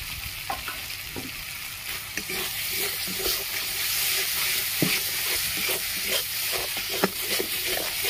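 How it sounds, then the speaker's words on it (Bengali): Spice paste for a tangra fish curry fries in oil in a pan, sizzling and hissing steadily while a spoon stirs it with repeated soft scrapes and taps, all close up, with no talking. "ভালো করে মশলাটা কষিয়ে নেব।"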